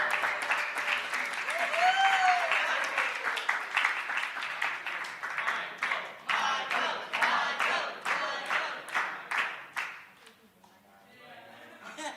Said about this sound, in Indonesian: Ayo tepuk tangan yang meriah